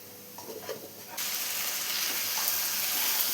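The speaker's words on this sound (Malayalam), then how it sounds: "എല്ലാം കൂടി നന്നായി തന്നെ ഒന്ന് മിക്സ് ചെയ്ത് കൊടുക്കാം" Cooked tapioca (kappa) being stirred through hot spices and chilli in a pan, giving a steady loud sizzle and fry hiss that jumps up after a quieter opening second and keeps going.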